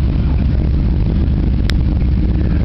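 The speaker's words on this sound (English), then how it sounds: "I knew it was a GMC truck engine of some sort." A GMC 261 cubic inch truck engine idles at a car show, a loud, close, steady low rumble with constant drone and one brief sharp click partway through.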